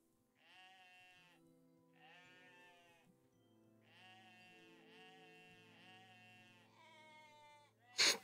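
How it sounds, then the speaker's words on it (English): Goats bleat in a video game: about five wavering, nasal bleats in an uneven sequence at moderate volume, ending with a sudden sharp click. "Goats."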